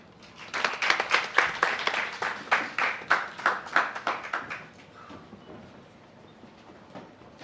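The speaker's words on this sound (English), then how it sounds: "we can give another round of applause to all our presenters" Audience applause for conference presenters, a burst of close clapping that is loud for the first few seconds, then thins out and fades into quiet room tone.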